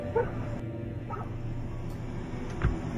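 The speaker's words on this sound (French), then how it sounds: "Rien de plus ordinaire qu'un chien qui aboie sur les passants." A dog barks and yips at something unseen outdoors at night, a few short sharp calls near the start and another near the end over a steady low background hum.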